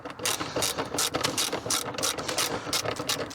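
A bolt on a Subaru Impreza GC8 WRX trunk latch is broken loose, giving a close, steady run of rapid ratchet clicks that repeat in quick bursts throughout, with no talking.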